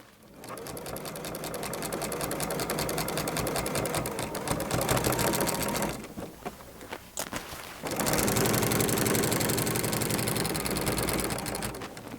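A sewing machine stitches quilt binding to the front of a quilt, running loud and steady, pausing briefly around the middle with a few stops and starts, then resuming at full speed.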